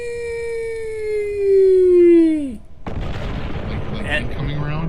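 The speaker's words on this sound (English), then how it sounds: "you hear an explosion" A tabletop zombie war scenario plays an explosion sound effect. A long falling whistle glides downward, then cuts out into a heavy, rumbling blast and crackling debris that fill the rest of the clip.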